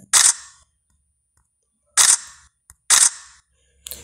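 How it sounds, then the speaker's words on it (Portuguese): A Samsung phone camera plays its shutter sound three times in sharp, loud, isolated clicks spaced about a second apart, with a fainter partial click at the very end. "você vai até som de disparo. Como você pode ver, aqui ó, ele está emitindo o som"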